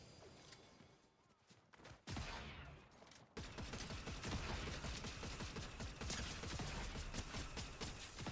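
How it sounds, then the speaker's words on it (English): Gunfire in a first-person video game, dense bursts of rapid shots that swell into a loud continuous fusillade after a brief lull, close and sustained with mechanical clatter. "You shooting at someone?"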